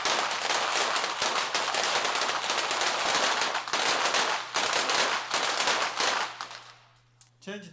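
Rapid gunfire from competitors at an international shooting competition rattles out as dense, overlapping volleys of sharp shots, loud and continuous before thinning out near the end.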